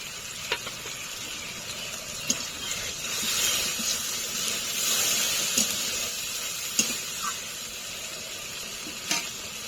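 Water used to rinse the spices goes into a pan of spicy mutton and potato curry with ground cumin. It gives a soft, steady sizzling hiss with a few scattered sharp clicks and pops.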